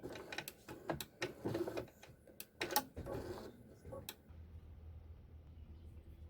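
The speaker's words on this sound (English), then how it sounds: "I'm going to hit that other corner and back stitch" A sewing machine back stitches a bag corner in several short, quick bursts of rapid mechanical stitching, separated by pauses and light handling clicks, then falls quiet to a faint low hum.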